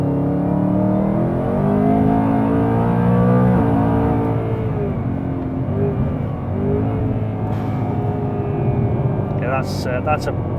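A supercharged Caterham sports car in racetrack mode revs hard, its engine note climbing and falling across repeated pulls, loud and close, with someone talking over it throughout.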